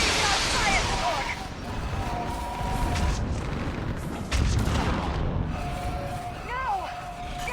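Mass Effect 3 fire support artillery pounding a battlefield, with heavy booms and blasts rolling through dense combat noise while voices shout over the din.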